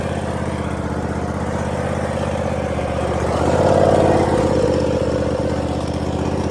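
A lawn mower engine runs steadily at close range, a loud continuous buzzing drone that swells briefly midway as the engine revs up, then settles back to a steady run.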